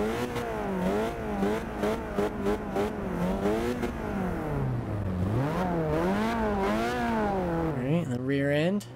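Nissan 240SX SE drift build revving in Forza Horizon 2: loud, close engine revs climbing and falling repeatedly in wavering sweeps, with a sharp final blip, sustained for several seconds.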